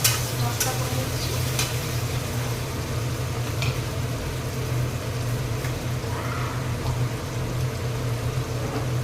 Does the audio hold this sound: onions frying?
yes